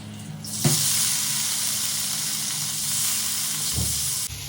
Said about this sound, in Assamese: প্ৰথমে মই পনীৰ কেইপিচ অকণমান ফ্ৰাই কৰি ল'ম।